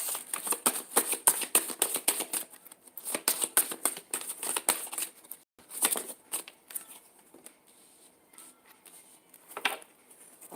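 Tarot cards shuffled by hand before a reading, a rapid run of close, crisp riffling and flicking that thins into scattered softer card sounds toward the end.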